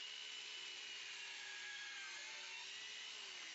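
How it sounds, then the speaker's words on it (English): DualTools CS450 dual saw cutting wood trim, a steady whining buzz of the power saw held throughout, faint and continuous, with the motor pitch drifting slightly as it cuts. "The dual saw is actually doing the work."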